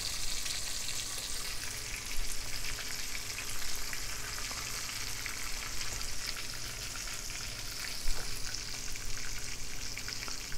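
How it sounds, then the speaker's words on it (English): Steady, quiet crackling sizzle of chicken frying in a pan, a continuous hiss with small pops, no one speaking. "Looking for a nice just sizzle"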